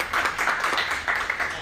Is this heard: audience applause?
yes